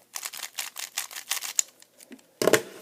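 Fangshi Shuang Ren speed cube being turned, a rapid series of close, crisp clicking clacks in quick rhythm, pausing briefly before a final louder burst of turning.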